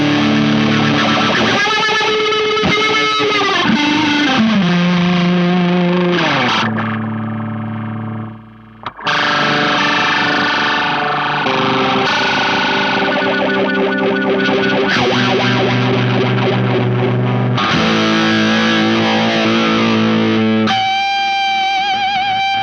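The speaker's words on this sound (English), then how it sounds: "It's a massive sound with the stereo delay." A guitar effects unit with stereo delay puts out a loud, dense, distorted tone with sustained echoing notes that shift in pitch. The sound runs almost continuously and drops out briefly once.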